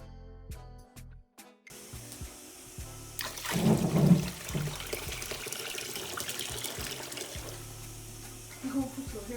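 Warm water poured into a container, a splashing, gushing rush that rises after a few quiet seconds, peaks briefly and settles into a steady trickle, with a voice talking over parts of it.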